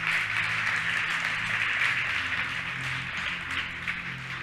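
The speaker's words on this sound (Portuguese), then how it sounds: "Vamos aplaudir o Senhor Jesus." Congregation applauding during a church service, a steady continuous wash of clapping filling the room at moderate level for the whole stretch, with no distinct voices on top.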